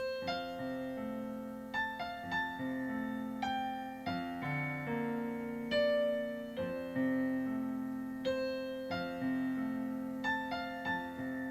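Piano chords sound one after another at a slow, steady pace, each ringing out softly before the next. The playing is gentle and moderately quiet, with no voices.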